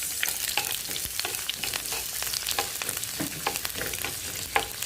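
Onion sizzles steadily in hot oil in a small Teflon pan, a loud, dense crackle with scattered pops and faint stirring scrapes, no voices.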